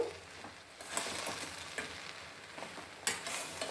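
A spoon scrapes and stirs uggani in a hot pan, giving soft irregular scrapes and light sizzling with a few sharper clinks, close up and with no voices.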